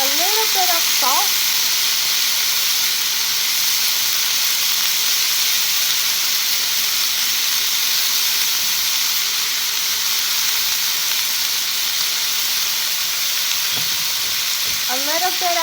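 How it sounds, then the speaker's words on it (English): Oil in a pan crackles and hisses steadily while asparagus fries, a dense, close sizzle that runs throughout, with a brief voice at the start and again near the end. "you're going to get a lot of oil popping everywhere"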